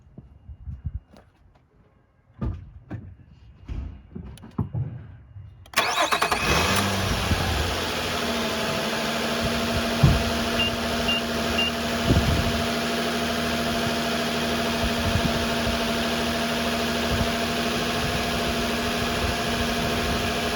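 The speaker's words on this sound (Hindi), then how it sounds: "सो गाड़ी को मैं स्टार्ट करूँगा।" After several seconds of faint clicks and small knocks, a car engine cranks and fires, then holds a steady, close idle with a constant hum and occasional small clunks, elevated at first, with no one talking.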